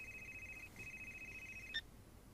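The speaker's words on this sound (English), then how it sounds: "Getting a phone call." A telephone rings quietly with an incoming call, a steady electronic tone with one short break that ends in a brief chirp.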